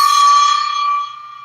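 A small gong is struck once, giving a bright, clear metallic ring that starts loud and slowly fades over about a second and a half, with no talking.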